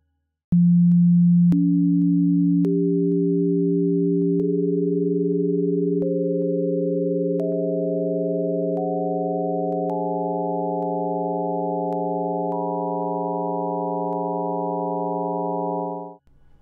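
Pure sine tones of the solfeggio scale, added one after another so that a stacked chord of steady pitches builds over about sixteen seconds, loud and clean, with faint clicks at each new entry.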